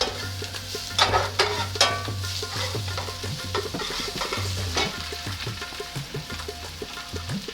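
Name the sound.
cumin and ginger garlic paste frying with onions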